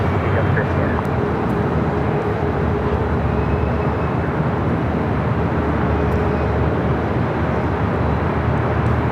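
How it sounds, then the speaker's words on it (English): An Airbus A330 cargo jet at LAX gives a continuous, loud, broadband engine roar, steady and close throughout, with a low rumble underneath and no pauses. "That is the awesome cargo, A330."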